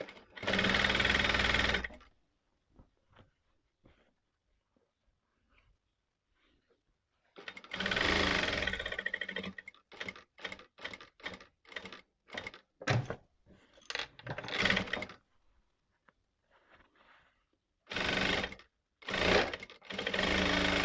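A sewing machine stitches a fabric facing in repeated bursts: one long run, a quiet gap with small clicks, then many short stop-start stitching spurts and a few final runs.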